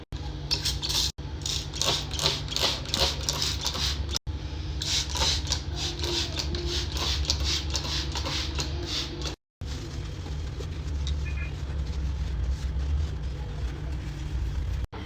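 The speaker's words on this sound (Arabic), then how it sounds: "شغلت الغسالة ما عليكم بالصوت." Washing machine running in a home with a steady mechanical whirring and rattling hum, fairly quiet and continuous with a couple of brief cuts.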